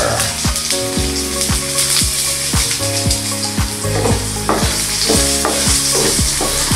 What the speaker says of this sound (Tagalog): Isusunod na po natin ang onions. Lalagyan na rin po natin ng ground black pepper.